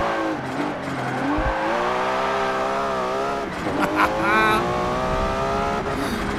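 A Nissan GT-R R34 engine in Forza Motorsport 7 revs hard through its gears, a steady harmonic drone rising in pitch, then a sharper climb with brief squeals around the middle. Someone talks over it throughout.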